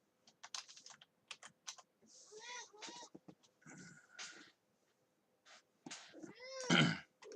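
A cat meows several times, close by, with a louder drawn-out meow near the end, mixed with bursts of keyboard typing in a quiet room.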